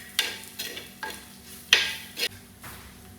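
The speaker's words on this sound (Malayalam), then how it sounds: "നല്ലവണ്ണം വഴറ്റി കൊടുക്കാം." Anchovies sauté in a pan with turmeric and chili powder, stirred in several quick, close scraping strokes that each bring a short sizzle over a faint background hiss.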